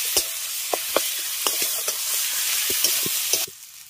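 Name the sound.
frying spice paste with peanuts in a pan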